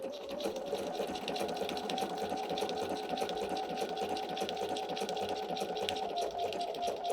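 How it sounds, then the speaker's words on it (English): A sewing machine stitching appliqué onto a fabric pillow wrap, a steady rapid mechanical whirr with fast rhythmic needle clatter running continuously at close range. "When it's doing this straight stitch right here, I want that right on the edge of the applique."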